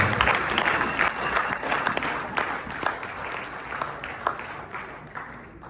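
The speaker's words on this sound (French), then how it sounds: "Est-ce que vous pouvez acclamer le Seigneur?" A church congregation in Sherbrooke applauding and cheering to praise the Lord, a dense, sustained burst of clapping from a large crowd that starts loud and slowly fades, with voices mixed in.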